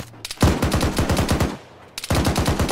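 A soldier's automatic weapon fire in Arma 3: a fast burst of crisp, closely spaced shots with deep thumping tails, a brief pause, then a second burst starting up, loud and near with no voices.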